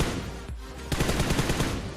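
Rapid gunfire from a laser-grip weapon in a shooting video game, a loud burst of evenly spaced shots starting midway after a brief lull, close and continuous to the end.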